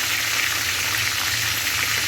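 Fish fries in a pan, a dense, even sizzle and crackle of hot oil holding steady at close range for a couple of seconds, with no speech over it.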